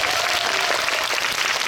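A cinema audience in CGV Apgujeong hall 1 applauds during a live talk with cast members of the film The Battle of the Throne, giving dense, even clapping that fills the room without a break.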